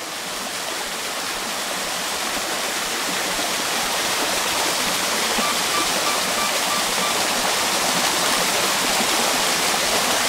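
A waterfall on a hillside hiking route in the Northern Campsies, Scotland, roars close by as a continuous broadband rush of water, steady and loud for the whole stretch with no talk.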